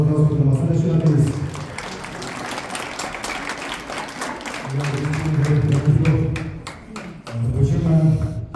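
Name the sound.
audience applause for the masala chef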